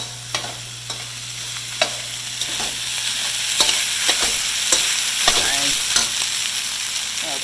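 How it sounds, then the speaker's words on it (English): Fried rice stirred in an oiled pan, a steady bright sizzle with intermittent scraping and tapping of the utensil against the pan, close and continuous without talk. "I'm going to give this a quick stir real quick"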